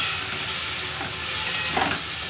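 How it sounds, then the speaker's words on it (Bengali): Potatoes fry with mustard and garlic paste for a potato and spinach saag, a steady close sizzle with a couple of brief stirring scrapes near the end. "সর্ষে আর রসুন বাটাটাকে এখানে ভালো করে দিয়ে এটাকে ভালো করে ভেজে নিচ্ছি"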